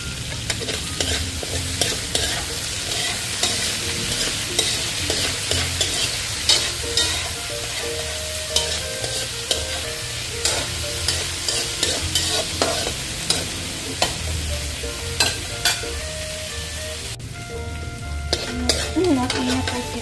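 Pork with potatoes, carrots and bell pepper being stirred in a frying pan, with steady sizzling and frying under repeated scraping and clattering strokes of the utensil, continuous and fairly close.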